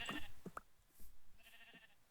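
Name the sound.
sheep bleating in the video game Minecraft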